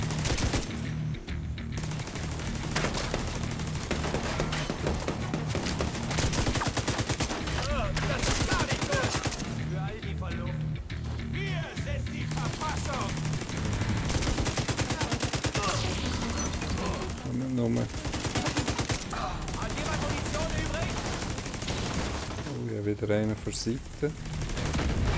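Sustained gunfire from The Division 2, dense rattling automatic bursts running nearly nonstop and loud throughout, with players talking over the shooting.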